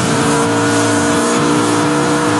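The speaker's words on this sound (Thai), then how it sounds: "บลูคอร์คือเครื่องยนต์สุดล้ำที่เพิ่มสมรรถนะการขับขี่และประหยัดน้ำมันได้อย่างยอดเยี่ยม" A Yamaha Blue Core engine revs hard and loud in a Thai advertisement, a dense, sustained mechanical roar with a slightly pulsing pitch throughout.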